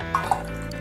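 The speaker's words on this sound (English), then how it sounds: "So you just take the moina culture, starter culture, and you just have to pour" Moina starter culture is poured into a container. A brief, soft splash and a couple of small drips sound close by over quiet background.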